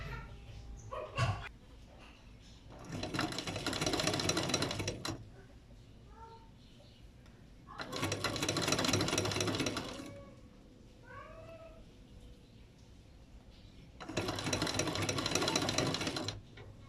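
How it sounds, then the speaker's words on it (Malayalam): A sewing machine stitches along a folded fabric edge in three bursts of a few seconds each, loud and close, with quieter handling pauses between the runs. "ആ മടക്കുന്ന സൈഡിലേക്ക് ഇതുപോലെ സ്റ്റിച്ച് ചെയ്യണം"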